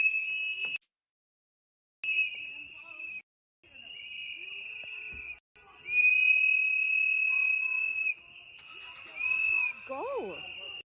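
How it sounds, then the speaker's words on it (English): Steady high whistling tones drift in and out in the background, sustained and fairly faint, with gaps of silence between stretches. "you can kind of hear the whistling that's in the background there"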